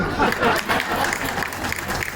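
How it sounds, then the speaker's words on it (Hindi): An audience at a poetry recital applauds, a dense steady wash of clapping from a crowd filling the whole moment. "अच्छी बात है मेरी पत्नी भी ताली बजा रही है।"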